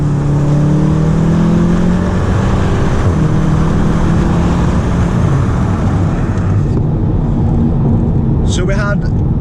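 A Volkswagen Golf R engine revs hard and builds in pitch while driving on a UK motorway at night, loud and continuous inside the car with steady road roar underneath.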